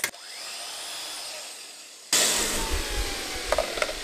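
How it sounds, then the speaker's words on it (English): A small jigsaw powered through an inverter whirs at a steady high-pitched motor whine, then turns harsher and louder halfway through with broadband buzzing and a few brief clatters, close by with no talk. "Here's a little jigsaw that uses like 200."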